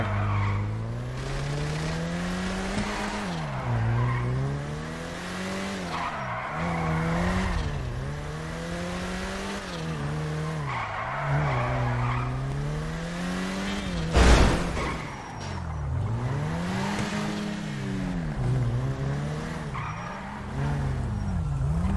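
A car in a video game drives and skids continuously, its engine pitch swooping up and down through repeated gear changes while tires squeal in long slides, loud and close, with one sharp thump midway and no talking.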